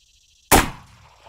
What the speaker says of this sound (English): I'm gonna try to shoot a little bit higher than that 308. See if I can get a center mass hit.